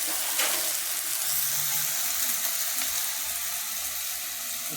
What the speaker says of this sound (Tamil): தக்காளி வதங்கிறதுக்கு ஒரு 3 நிமிஷம் மீடியம் ஃப்ளேமில்.